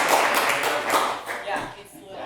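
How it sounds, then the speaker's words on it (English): A townhall audience claps as a speaker comes up to the stage, a full, continuous wash of many hands that gradually thins out over about two seconds. "You can clap for him as he makes his story."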